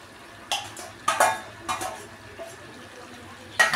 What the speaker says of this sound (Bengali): এবার আমি মাছটা দিয়ে দিচ্ছি